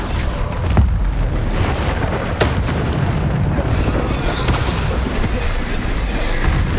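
Bombarda spell blast in the video game Hogwarts Legacy, a dense booming explosion rumble over continuous loud low-heavy noise, with a few brighter bursts and crackles scattered through.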